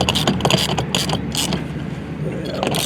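Bolts being worked in until snug on a 2024-2026 BMW 5 Series, a string of close ratcheting clicks and metallic fastener noise running steadily through the moment, with faint speech in the background.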